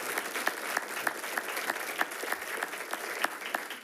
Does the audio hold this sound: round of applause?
yes